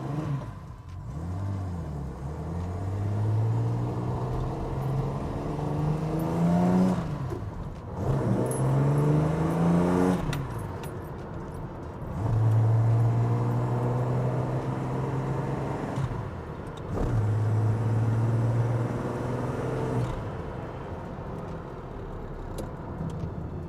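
A special edition classic JDM car being driven, its engine revving up through the gears in repeated rising pulls separated by short pauses for shifts, loud and close from inside the car.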